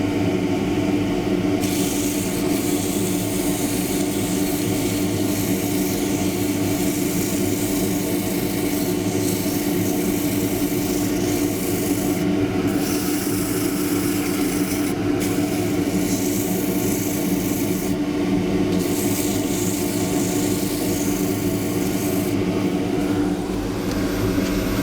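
A small wooden dish spins on a lathe while being sanded with 180-grit abrasive, producing a loud, steady motor hum with a continuous hissy rush over it and slight shifts in tone.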